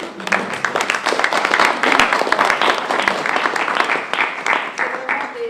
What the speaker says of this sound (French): Moi j'ai envie de vous applaudir.